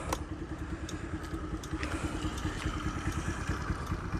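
A Honda Dio AF-62 scooter engine idles close by with a rapid, steady putter and light mechanical clatter, running evenly throughout with no odd noises.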